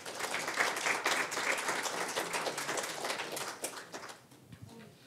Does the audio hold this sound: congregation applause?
yes